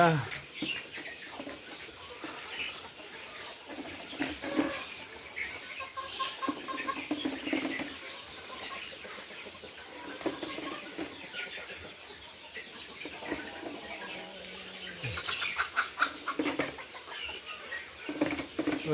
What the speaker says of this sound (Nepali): पोल्ट्री फार्म खाली, कुखुरा सबै बाहिर।